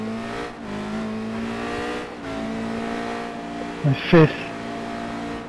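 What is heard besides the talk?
Radical race car accelerating up through the gears, Zandvoort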